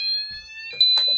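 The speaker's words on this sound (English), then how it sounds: "So this is the medium" A shrill electronic fire alarm sounder tone, the medium sweep, sweeps steadily, then cuts to a brief burst of a louder, harsher tone near the end.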